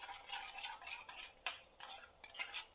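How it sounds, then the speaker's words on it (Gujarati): A spoon mixes yogurt with half a spoonful of coriander powder in a bowl, giving soft, quiet wet scraping and clicking strokes in an uneven rhythm, close and faint. "આવી રીતે મિક્સ કરી લેવાનું છે"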